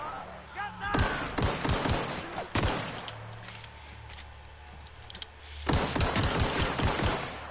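Gunfire in The Outer Worlds crackles in sharp rapid bursts, one cluster near the start, another shortly after, then a longer volley toward the end, set against a quiet background hum.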